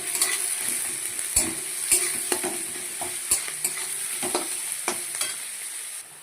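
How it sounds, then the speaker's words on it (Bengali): Chopped onion frying in mustard oil sizzles steadily while a spatula scrapes and knocks against the pan in irregular close strokes, with no talking. "পেঁয়াজটাকে এবার লাল লাল করে আমি একটু ভেজে নেব।"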